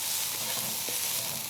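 Garlic, ginger and chili stir-fry in a hot wok with black bean beef, a steady loud sizzle with faint scraping stirs, no talking.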